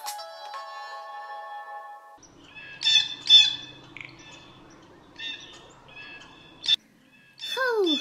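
Bird chirping in a French/English comic dub: several short bright chirps and tweets in bursts, ending with quick downward-sweeping calls, over a faint background hum.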